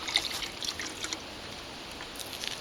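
Small motor pump pulling water from a bucket at a fire tower lookout, giving a soft continuous trickle and splash of discharged water, steady and close with faint high hiss and no talking.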